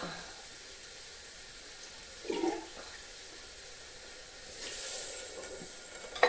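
Water gurgles and splashes into a cooking pot in a couple of short pours while making toor dal sambar, over a low background hiss.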